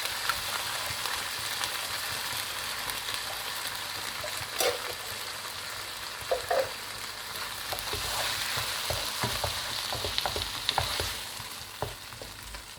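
Canned chopped tomatoes simmer and sizzle in a pan for shakshuka, a soft steady frying hiss broken by scattered clicks and scrapes of stirring, close and fairly quiet.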